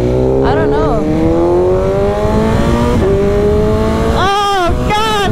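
A loud, close BMW S1000RR motorcycle with an SC Project slip-on exhaust holds a rising engine note, then drops through quick falling revs with crackling blips as it engine-brakes.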